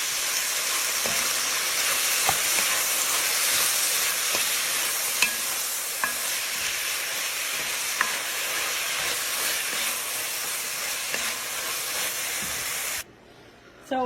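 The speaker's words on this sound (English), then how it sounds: "I'm going to throw in the garlic right in this meat. Let's stir that up." Garlic being stirred into steak browning in a pan, giving a steady, loud sizzle and hiss with faint scraping stir sounds throughout, cutting off abruptly near the end.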